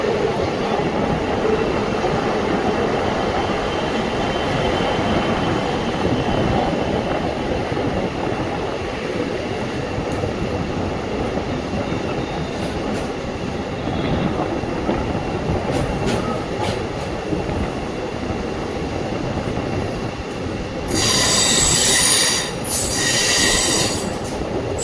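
A passenger train on the Bengaluru–Hassan line runs steadily near Yeshwantpur Junction with a constant rumble. Metal wheels squeal sharply against the rails in bursts toward the end.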